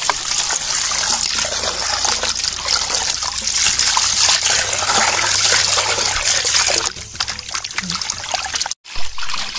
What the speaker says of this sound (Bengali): মাংস আমরা ধুই ফেলেছি